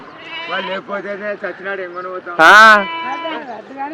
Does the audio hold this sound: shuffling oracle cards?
no